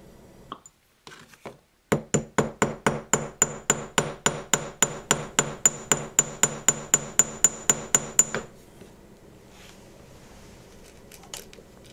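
Small sterling silver wire balls are hammered flat into petals for a miniature flower: around two dozen crisp, ringing metal taps struck close at a quick, even rhythm, then silence.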